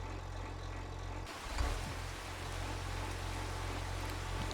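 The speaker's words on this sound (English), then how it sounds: "Just started raining as soon as I'm about to pull in this guy's field." Steady rain in the video game Farming Simulator 25, with a soft hiss of falling drops over a low vehicle drone and a brief bump partway through.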